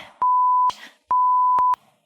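Two loud, clean electronic censor beeps, each a steady tone lasting about half a second, separated by short gaps with faint background noise.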